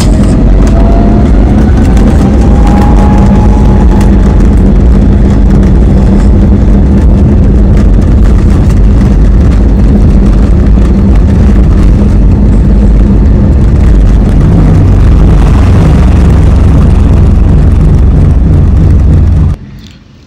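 Jet engines of an IndiGo A320neo roar loud and steady during takeoff from Srinagar International Airport, heard from inside the cabin, with a rising whine early on and a dense low rumble that cuts off abruptly at the end.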